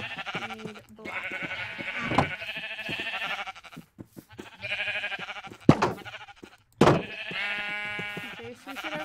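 Repeated Minecraft sheep bleats, some overlapping, with a few sharp clicks and thuds between them; no talking.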